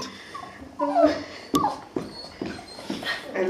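A dog whimpers and yips in short, high bursts close by in a home where people are handing out spiced pepernoten biscuits, with a few soft voices around it.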